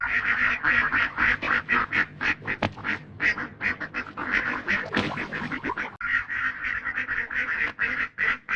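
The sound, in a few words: duck quacking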